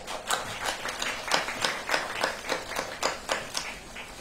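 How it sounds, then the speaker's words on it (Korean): Scattered, rhythmic clapping from a modest audience welcomes a guest on stage at a press event for the play Richard III, sparse individual hand claps rather than a full roar. "큰 박수 부탁드립니다."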